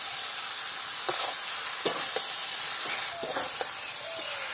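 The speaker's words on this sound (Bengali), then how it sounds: "আমি 10 মিনিট বেশি কষাবো এটাকে" Jackfruit curry sautéed in ghee in a pan, with a constant bright sizzle and hiss under occasional light stirring taps.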